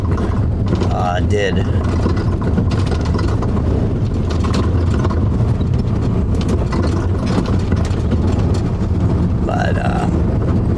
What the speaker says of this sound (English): this truck rattles a lot more than that loaner truck that I was in